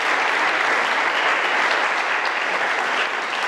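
Audience at a talk in Terrassa giving sustained, dense applause, a steady wash of many hands clapping together from start to finish at an even level.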